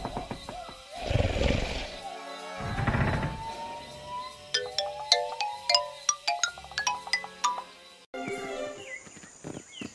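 A cheap store phone jingle rings out in a Lego dinosaur cartoon as a string of quick, bright electronic tones, following a couple of short muffled bursts at moderate loudness.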